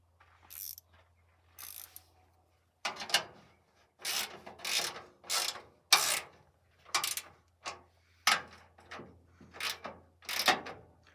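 Radiator fittings tightened by hand during a radiator installation, a series of short ratcheting, scraping metal clicks in uneven bursts with pauses between, close and clear.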